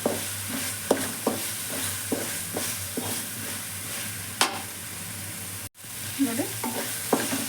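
Onions sizzle in hot oil while being stirred in a pan for garlic rice. A steady frying hiss runs under repeated clinks and scrapes of a spoon, close up, with no speech.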